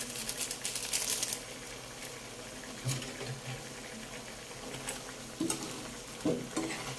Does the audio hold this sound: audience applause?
no